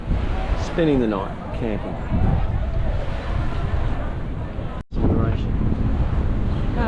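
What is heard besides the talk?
wind blowing by a lake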